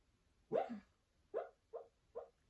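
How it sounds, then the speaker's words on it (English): A sleeping dog gives four soft, muffled little barks, one slightly longer yelp followed by three shorter woofs spaced about half a second apart, faint and close in an otherwise quiet room. "he makes these little barks in his sleep sometimes"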